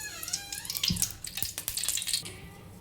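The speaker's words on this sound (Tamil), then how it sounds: "எண்ணெய் ஊற்றிக்கலாம்." Cooking oil, homemade gingelly oil, is poured into a pan, with a close, continuous liquid splashing and trickling sound that holds steady for a few seconds and has a few sharper clicks mixed in.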